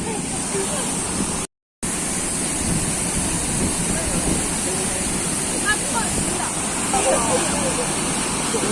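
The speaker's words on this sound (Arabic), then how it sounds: "مرحبا بكم في شلالات اوزود، اكبر شلال في المغرب، الارتفاع ديالو 110 متر." Ouzoud waterfall in Morocco, 110 metres high, a loud steady roar of falling water with a brief cut near the start, and voices faintly beneath the rush.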